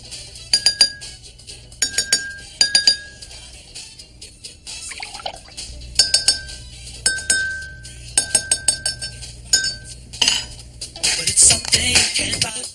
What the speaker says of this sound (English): Add water to lower the pitch of the glass that sounds higher.